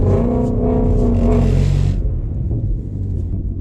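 Shelby GT350 pulling away in first gear in track mode on a wet road, a deep engine roar that builds for about two seconds then cuts to a lower rumble, heard from inside the car.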